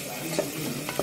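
Mutton pieces fry with onions in a pot for yakhni white pulao, giving a steady close sizzle with brief stirring scrapes over one short moment.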